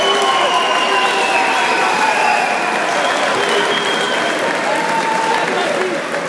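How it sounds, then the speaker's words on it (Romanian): Sustained applause and cheering from a crowd honoring athletes at a Metalbox K1 kickboxing gala in Arad, steady and dense for the whole stretch, with a voice shouting over it. "Aplauze pentru oamenii sportivi."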